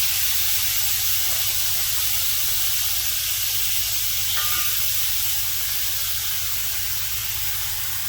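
Beef sizzles loudly and steadily in a skillet for Mongolian beef, a continuous close hiss of frying with no talk.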